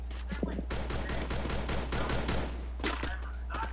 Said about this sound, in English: Stop shooting and wasting your ammo.